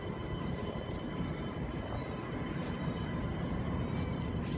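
A train rumbles past at Port of Botany, a low, steady rolling drone of wagons with faint metallic wheel tones, heard from a moderate distance.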